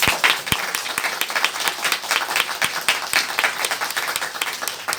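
An audience claps loudly and continuously at a musical's curtain call, a dense wash of applause with a few sharper individual claps standing out.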